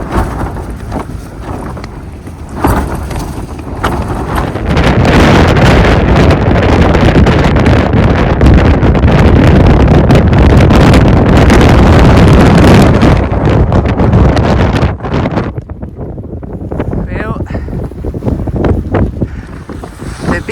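Strong, roaring winter wind gusts in Glen Feshie in the Cairngorms buffet the microphone, swelling to a sustained loud blast before easing, with faint water movement underneath.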